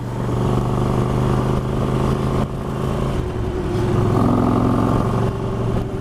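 A motorcycle with a stage 1 upgrade idles and rumbles loudly up close, a deep steady throbbing engine note that rises slightly in pitch midway as it revs a little, with no talking.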